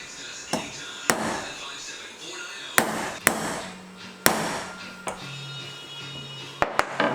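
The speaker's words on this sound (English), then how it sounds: "So when we hit the hammer on it, it hits the nut." A hammer strikes a nut on a threaded bolt during work on a center console fishing boat. Sharp metallic blows land irregularly, some loud and some softer, with a faint hum and low background noise between hits.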